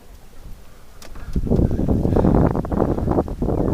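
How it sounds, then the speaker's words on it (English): Wet, gusty wind picks up outdoors by a lake as rain begins, starting quiet and swelling into a loud rushing buffet against the microphone. "wind's starting to blow in, and it's wet wind"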